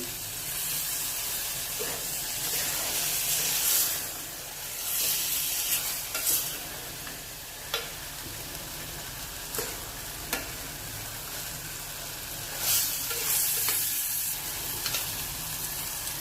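Stuffed brinjals sauté in a pan with a continuous close sizzle and hiss, interrupted every few seconds by scraping stirs and the clatter of a spatula against the pan.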